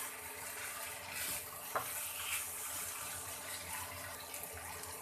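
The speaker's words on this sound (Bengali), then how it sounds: "এর মধ্যে আমি জল দিয়েছি 1 কাপ দিয়ে" Water is added to a pan of cauliflower and potatoes cooking in spices for a Bengali curry. The sound is a steady wash of pouring and sizzling that runs throughout, with a brief sharper splash near the start and no talking.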